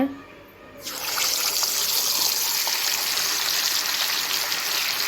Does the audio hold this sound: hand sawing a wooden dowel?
no